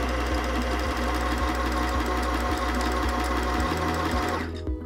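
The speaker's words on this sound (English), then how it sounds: "step on the foot control to wind the bobbin" A sewing machine runs steadily while winding thread onto its bobbin, a close, even mechanical whir with regular ticking pulses that slows and stops just before the end.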